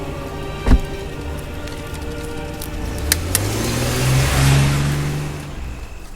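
A car starts up and pulls away with a rising engine rev, heard close against a rainy night ambience after a sharp thud in a dramatized scene.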